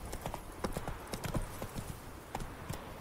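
In The Witcher 3, a ridden horse's hooves clip-clop in a quick, uneven gallop rhythm, close and clear, with faint hints of talk.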